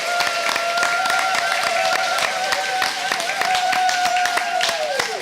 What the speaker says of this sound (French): si nous pouvons les accueillir avec des applaudissements